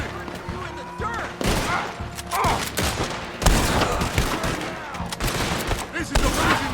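Rapid gunfire from a Red Dead Redemption 2 shootout crackles in repeated bursts and volleys, loud and close, with shouted voices cutting in between the shots.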